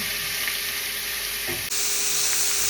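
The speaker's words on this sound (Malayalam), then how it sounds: "അപ്പോൾ അതിന് ഞാൻ ഇച്ചിരി സവോള വഴറ്റാൻ പോവാണ്" Sliced onions sautéing in a pan for a meat curry, a dense steady sizzle up close that jumps to a brighter, louder hiss partway through, with nothing else heard.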